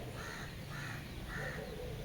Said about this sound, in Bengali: পাখির ডাক ছাড়া কিছু শোনা যাচ্ছে না।